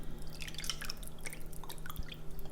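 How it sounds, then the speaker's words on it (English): Bone broth is poured over chicken and pasta, giving close, quiet wet dripping and splashing with irregular small drops and squishy liquid sounds over a low background hum. "Let's pour some bone broth."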